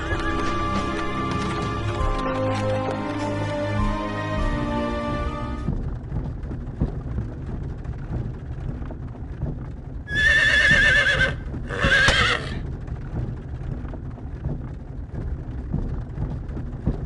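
Horses whinny and neigh loudly in a Star Ocean: Till the End of Time game scene as a horse-drawn wagon pulls away, two sharp bursts over steady clip-clopping hooves and rolling wheels, with music fading out early.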